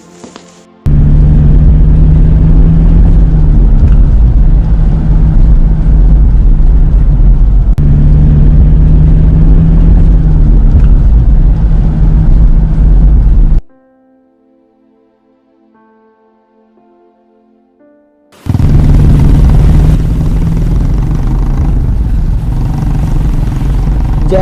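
A cartoon car drives toward a jungle with a loud, steady engine rumble that runs for a long stretch, cuts out briefly to a faint tone, then roars back up.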